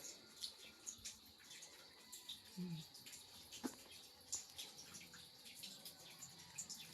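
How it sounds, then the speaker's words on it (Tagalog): Water runs steadily from a tap in a stone-finished farmhouse bathroom, a soft continuous splash with faint drips, close by and fairly quiet, with a brief voice in the background. "Ay, bukas ang tubig. Ayan, meron po siyang tubig."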